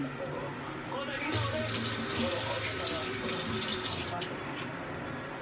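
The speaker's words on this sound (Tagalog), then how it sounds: "Linisan na natin yung luya." Tap water runs steadily into a sink while ginger is washed for a crab and squash coconut stew, a continuous close hiss and splash that grows fuller partway through, with no talking over it.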